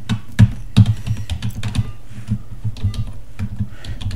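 Computer keyboard typing, close and clear, with irregular clacking keystrokes and a few louder key hits, no voices.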